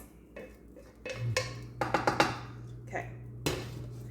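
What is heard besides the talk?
cooked chicken being put into a bowl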